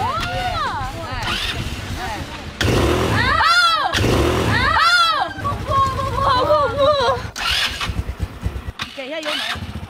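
An ATV engine revs and surges loudly during riding practice, rising and falling in bursts, while people talk over it.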